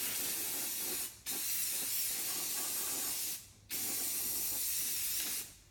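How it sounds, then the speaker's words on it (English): Bursts of loud spray paint hissing from an aerosol can, three long sprays separated by two brief pauses, close up with no talking. "if you leave the spray paint on"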